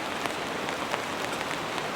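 Heavy rain pelts a big tent during car camping, a dense, steady drumming hiss with scattered sharper drop hits, close and continuous with no pauses.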